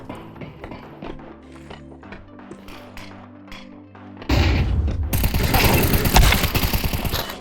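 Counter-Strike 2 gunfire on the Nuke map, sharp shots and thuds over a busy game backdrop, then a loud blast swells into a roaring wash of noise and crackle.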